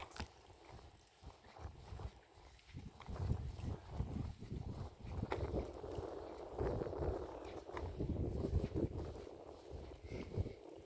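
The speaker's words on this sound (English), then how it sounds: "It does sound windy," Wind blowing across Crosby Marina's boat lake in Waterloo, Liverpool, on a mild summer day, heard as a steady, gusting low rumble buffeting the microphone throughout, with no voices.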